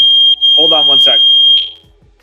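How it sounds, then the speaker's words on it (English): A fire alarm sounds during a test, a loud, steady high-pitched electronic tone that runs for about a second and a half and then cuts off, with someone talking over it. "We had a fire alarm test today at that time, so I am so sorry if everyone heard that just now"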